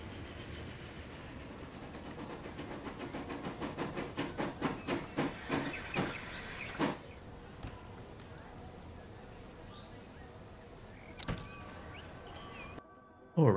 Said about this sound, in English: our new train getting up and running and starting to get into rhythm